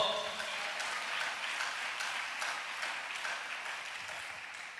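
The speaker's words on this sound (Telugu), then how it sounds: "కొట్టు చప్పట్లో" A church congregation claps hands during a sermon, a steady wash of many hands clapping at moderate volume, continuous and even throughout.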